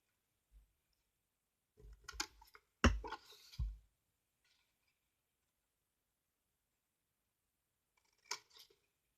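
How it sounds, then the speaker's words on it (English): Scissors snip straight up into punched paper to make tabs, a few quiet clustered cuts near the start and another short pair of snips toward the end, with silence between. "now you're just gonna snip straight up, making tabs"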